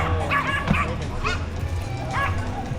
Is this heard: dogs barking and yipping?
yes